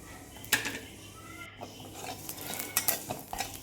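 Rice, dal and sesame seeds dry-roast in a pan on a village wood-fired stove, giving soft scraping and light metallic clinks as a spoon stirs, faint and intermittent against a quiet background.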